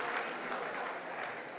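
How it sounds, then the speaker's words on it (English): Audience applause at a leadership conference, a steady dense wash of clapping from a crowd lasting through the moment at moderate level. "please give a big round of applause to each other"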